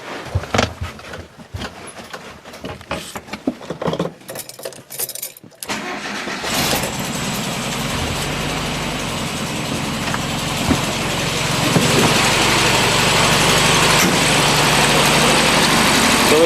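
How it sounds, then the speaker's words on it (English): A Volkswagen Beetle engine, fitted with new spark plugs, is started after keys jangle and clicks sound. It catches and settles into a loud, steady idle that rises slightly in level partway through. "let's go ahead and fire this thing up, and then we can let it warm up"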